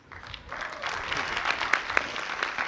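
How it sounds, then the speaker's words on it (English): Parents in a school annual day audience clap for a children's performance, the applause rising quickly into a dense, fairly close patter of many hands with a few sharper individual claps. "So, parents, give them a huge, big round of applause."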